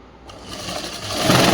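A sewing machine stitches through folded school uniform fabric, starting softly and building into a fast, loud mechanical whir over a second and a half.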